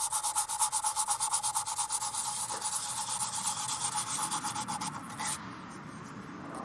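Surface abrasion or corrosion on a 1934 Pacific Model 107 gets smoothed by hand, a steady rhythmic rubbing or sanding stroke repeating quickly for about five seconds and then stopping, close and alone.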